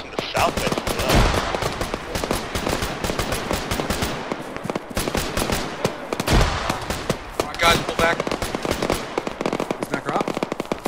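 Dense gunfire in Arma 3, rapid automatic bursts and single shots crackling almost nonstop, near and loud, with voices talking over the shooting.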